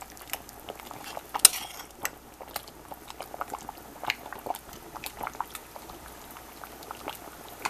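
Smothered turkey wings cooking in a pot, giving a quiet, steady bubbling and simmering with scattered small pops and crackles.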